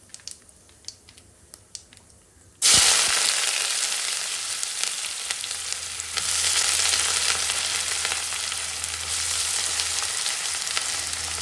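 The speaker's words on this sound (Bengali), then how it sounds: "এবার চলুন পেঁয়াজগুলো দিয়ে দিই।" Onions tipped into hot oil with dried red chillies and whole cumin erupt into a sudden loud sizzle after a few light taps, then keep frying steadily, swelling slightly as they are stirred.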